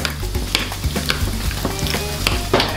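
Refried beans with cooked chopped bacon and bacon grease are stirred together, giving a steady wet crackle with scattered soft knocks and scrapes of a utensil, close and continuous with no voice.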